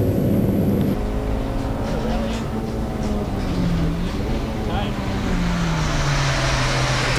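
A race car engine at a circuit drones loud and steady, its pitch rising and falling with gear changes, while a commentator talks over it.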